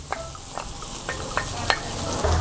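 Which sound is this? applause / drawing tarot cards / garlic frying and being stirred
garlic frying and being stirred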